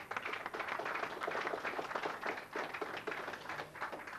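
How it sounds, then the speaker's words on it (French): An audience at a French boxing awards ceremony claps for a boxing coach, a steady patter of many hands sustained throughout at moderate distance, without voices. "on peut l'applaudir"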